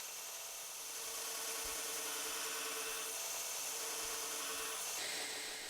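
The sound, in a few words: grinding the handle end of a knife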